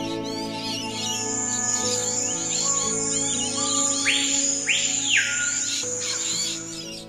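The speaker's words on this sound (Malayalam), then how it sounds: "ഞാവൽ മരത്തിൽ നിന്ന് എപ്പോഴും കിളികളുടെ കലപില ശബ്ദം കേൾക്കാം." Birds chatter and chirp from a large jamun tree, with quick rising and falling calls over a steady, sustained tonal hum that runs throughout.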